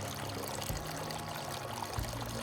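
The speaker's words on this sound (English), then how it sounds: "Well, I got the water feature working." A garden water feature trickles and splashes steadily outdoors, a continuous close-up wash of falling water with no voices.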